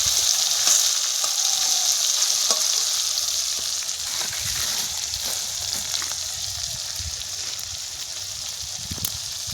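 Bata fish frying outdoors, a steady loud sizzle of hot oil running throughout with occasional stirring clatter and pops, no talking.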